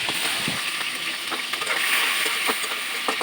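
Shrimp fry in hot oil with cumin and green chilies, a loud, steady sizzle, and sharp crackles pop out every so often. No one speaks.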